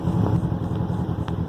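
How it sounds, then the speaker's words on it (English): A Yamaha 90 HP carbureted outboard boat engine, warmed up, runs close by with a loud, steady low drone that wavers slightly in a mild surge. "There's just a little bit of surging here now that the engine's warmed up."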